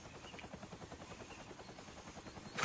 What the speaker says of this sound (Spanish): ¿Un helicóptero? Parece.